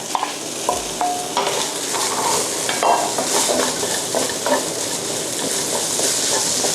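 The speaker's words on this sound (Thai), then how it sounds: "เราก็ใส่ตัวเต้าหู้ที่เรายีไปนะคะ" Crumbled tofu stir-fried in a pan for khua kling, a dense continuous sizzle with scraping strokes of a spatula against the pan, close and fairly loud.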